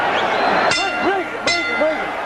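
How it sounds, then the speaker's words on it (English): The ring bell signals the end of the third round in the 1994 boxing match between Felix Trinidad and Hector Camacho: two bright metallic clangs ring out about a second apart over crowd noise and commentary. "And Trinidad wants more after the bell"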